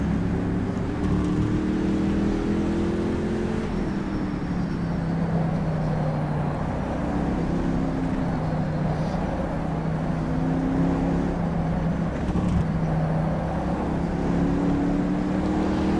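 A Panoz Roadster on street tires at Putnam Park in rFactor 2 holds a loud, sustained engine note that rises and falls as the car is driven sideways through corners, with no speech over it.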